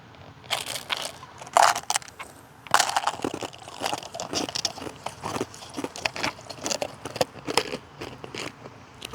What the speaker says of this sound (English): Maybe I can crunch down the ice and get.